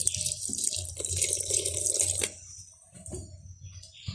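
Water poured into idli batter in a village kitchen, with a close splashing stream for about two seconds, then a pause and a shorter second pour.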